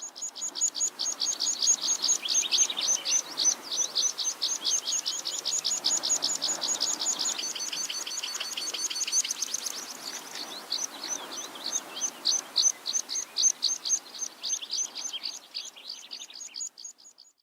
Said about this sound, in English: And colorful twittering birds appeared.